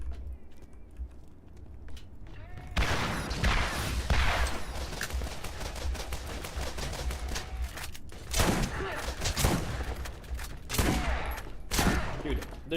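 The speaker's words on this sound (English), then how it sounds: "this shotgun has knockback on it and it is hilarious" Shotgun fire in the shooter Borderlands 4, heard as repeated sharp, loud blasts in bursts over a steady game soundscape, with a cluster of heavy shots near the end.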